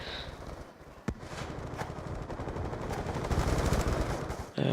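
Machine gun fire sounds in a video game, with rapid bursts of shots blending into a dense, continuous rattle at moderate loudness and a sharp louder crack near the start.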